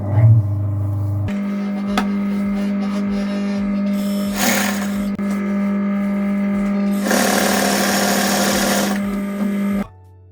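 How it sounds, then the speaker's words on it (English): A sewing machine runs steadily at close range, stitching fabric around an edge with a continuous mechanical whir that speeds up briefly before stopping near the end. "I am going to sew around the edge first and then across to create the puffer jacket"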